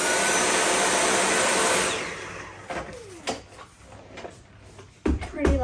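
A Dyson V8 Animal vacuum cleaner runs with a loud, close, steady whine for about two seconds, then shuts off and winds down, followed by scattered knocks and handling noises.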